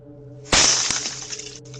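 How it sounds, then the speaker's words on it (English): Glass shatters in one sudden loud crash as a meteor strikes a home, followed by a brief tinkling spray of falling shards over a low steady hum. "Have you ever heard the sound of a meteor crashing into a home?"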